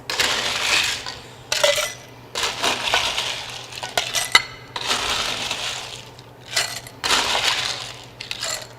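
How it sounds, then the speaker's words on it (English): Ice cubes dropped into a pint glass in bursts, clattering and clinking loudly in several separate pours with short pauses between, no talking. "Next, you'll want to fill your pint glass or whatever glass you have with ice"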